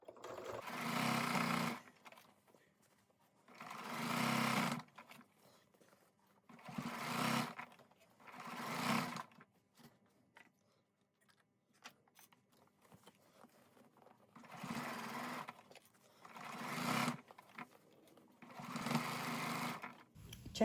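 A sewing machine stitching a round rice bag runs in six short bursts of steady, close, whirring stitching, separated by quiet pauses.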